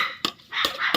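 A dog barks three times in quick succession, sharp and fairly close, with short pauses between barks.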